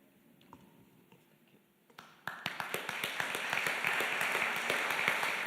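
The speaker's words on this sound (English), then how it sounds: "it's always better to get the applause out of the way at the beginning" Applause breaks out from an audience at a festival talk in Glasgow: after a quiet room with faint sounds, a burst of clapping starts and swells into steady, moderately loud applause from many hands.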